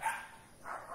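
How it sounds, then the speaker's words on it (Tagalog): Dogs barking in the background during a Tagalog sermon, with a few soft, distant bow-wows rising at the start and end of a quiet second. "Boses ng mga aso."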